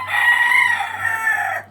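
A gamefowl rooster from Marinduque crows once, loud and close, a sustained crow of about a second and a half that dips midway and then trails off, with no talk over it.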